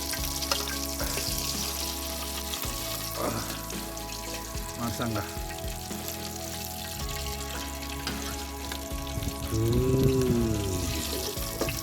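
Chicken leg pieces fry in hot oil in a home kitchen, a steady broadband sizzle running throughout with a few brief clinks and a louder surge near the end.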